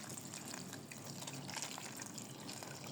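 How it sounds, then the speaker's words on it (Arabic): Hot boiled water pours steadily over olives sitting in a net, a continuous gushing, splashing stream that stays close and fairly loud throughout, with no talking. "وكنديروا ليه هاد الماء طايب"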